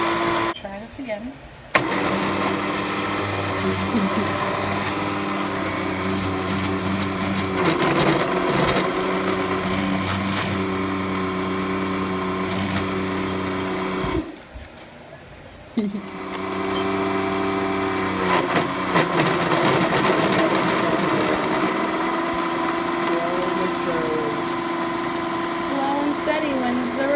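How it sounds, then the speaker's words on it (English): A blender making a smoothie whirs loudly and steadily, cutting out briefly partway through as it strains, before starting up again, with people talking nearby. "Sounds like the blender's giving way."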